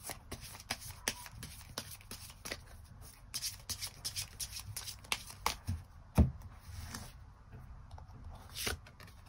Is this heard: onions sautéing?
no